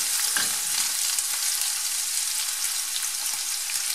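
Garlic, onion and cachucha peppers sizzle loudly in a pot for a Cuban bean stew, a steady dense hiss of frying with faint stirring bumps and no talking.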